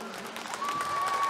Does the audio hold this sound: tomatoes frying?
no